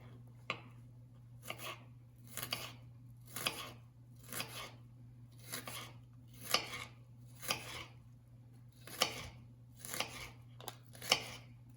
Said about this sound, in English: now we're going to cut jalapeno